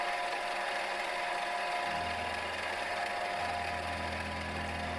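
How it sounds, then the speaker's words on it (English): A machine drones steadily with a thin high whine, its low hum deepening partway through as a slot drill on a milling machine bites into metal, cutting a flat-bottomed hole, no voices. "I'm going to use the slot drill to drill a flat bottomed hole for the bolts."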